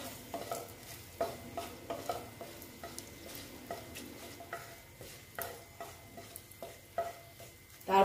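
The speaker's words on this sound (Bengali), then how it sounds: "দিয়ে এবার আমি শুকনো লঙ্কা দুটো দিয়ে দেব" Dried red chillies dropped into hot oil while cooking bitter gourd, giving a soft continuous sizzle with repeated scraping stirs and light clinks of a utensil against the pan, fairly quiet.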